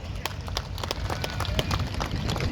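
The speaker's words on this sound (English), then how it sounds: "well done for the applause" Outdoor crowd at the Laughton Cuckoo Fayre 2024 applauding in memory of Alan Cannings at a vintage tractor tribute: steady, dense clapping from many hands, mid-distance and sustained throughout, with a voice faintly over it.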